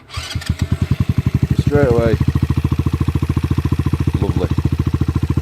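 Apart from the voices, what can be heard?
Sinnis Apache 125 motorcycle engine starting and idling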